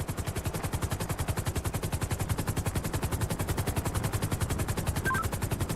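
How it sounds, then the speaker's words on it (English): Sustained automatic gunfire in GTA 5 rattles in a rapid, even burst of evenly spaced shots that runs unbroken for several seconds at moderate distance. "Shots fired. I see shots fired."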